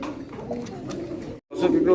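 Pigeons coo at a loft farm selling birds wholesale, with low throaty calls running steadily, breaking off briefly and then returning louder, with voices mixed in.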